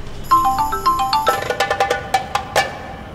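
A mobile phone plays a melodic electronic ringtone, a bright run of quick chiming notes repeating loud and close with no talk over it.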